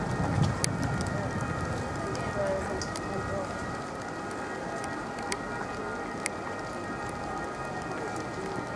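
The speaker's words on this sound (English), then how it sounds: "rain started coming down, so we're expecting some storm" Rain coming down during a thunderstorm at Roman ruins in Rome, a steady, dense outdoor hiss with occasional sharper drop taps, moderately loud and continuous throughout.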